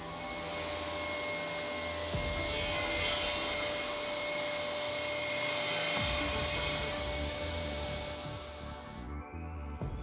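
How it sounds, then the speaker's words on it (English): Felder C3 31 combination woodworking machine running steadily while a board is cut, a loud continuous whine with cutting noise throughout that winds down near the end. "Now clamp the board under the edging shoe, which ensures that this cut is also performed without a hitch."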